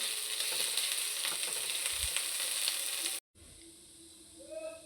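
Onions frying in a pan, being browned dark for the ground masala paste of saoji chicken: a steady, bright sizzle for about three seconds, a brief cut, then a quieter crackle with small pops and no talking.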